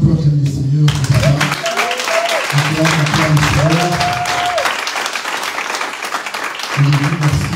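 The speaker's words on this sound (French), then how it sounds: "Quelqu'un peut acclamer le Seigneur pour ça." A church congregation at a youth worship service breaks into loud, sustained applause and cheering for the Lord, the clapping filling the room while a voice speaks over it at the start and again near the end.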